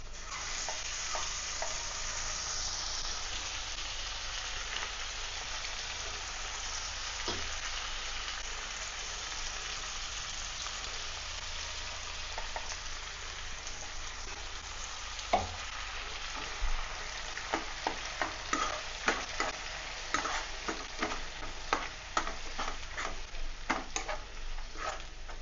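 Ground coriander paste sizzles steadily in a pan while being stirred, with a constant frying hiss and scattered scraping ticks from the spoon that grow more frequent toward the end.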